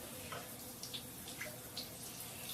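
Shower water runs steadily over a baby's face, a soft continuous spray with faint splashes and drips scattered through it. The water is heard alone, with no talking.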